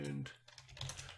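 A computer keyboard being typed on, a few quick, light key clicks following a brief bit of voice at the start.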